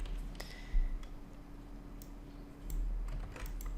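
Quiet keys tapped on a computer keyboard to spell out a single word, a short run of soft, close clicks with brief pauses between them and no talking.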